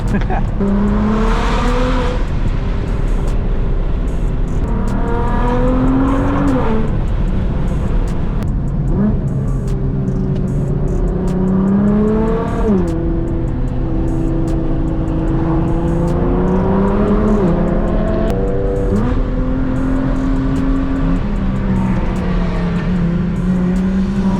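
A manual Nissan GT-R driven hard on a canyon road, its engine loud and close, revving up in repeated rising sweeps with shifts between them over constant road and wind roar.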